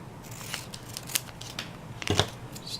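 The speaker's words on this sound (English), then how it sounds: "cut the end like so" Scissors snip the end of a homecoming garter mum ribbon, a few soft close crisp cuts with a sharper crunch near the end, in a quiet room.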